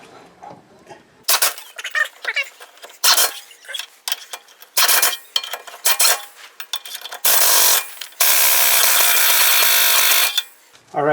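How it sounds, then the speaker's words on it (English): Impact wrench on its lowest setting tightens wheel nuts on a front-wheel-drive Toyota during rear wheel bearing work, in loud repeated bursts of hammering rattle, with a long sustained run near the end and quieter gaps of movement between. "I got the impact set at the lowest setting so I can torque them"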